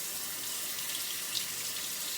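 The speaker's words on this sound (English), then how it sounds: "And I want to get some cool water going here." Cool water runs from a bathroom or sink tap in a steady, gentle stream, quiet and even throughout, with no talking.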